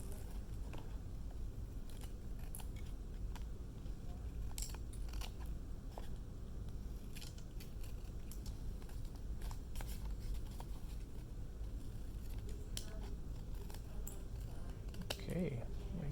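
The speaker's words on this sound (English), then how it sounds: "we're going to use our scissors, and we're going to cut the excess paper off like this" Scissors snip away excess paper from a woven paper Easter egg craft, a steady run of quick, soft cutting clicks close by, with a voice talking faintly in the background.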